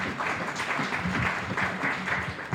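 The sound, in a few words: audience applause after a thank-you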